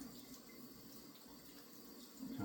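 Tap water runs steadily and faintly into a kitchen sink while leeks are rinsed of sand, a soft continuous stream that swells slightly at the end.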